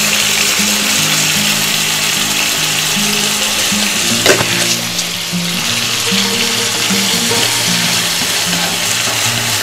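Pork stir-frying with tomato and seasoning powder in a pan, a loud, steady sizzle with a brief clatter of stirring midway, while background music plays and no one speaks.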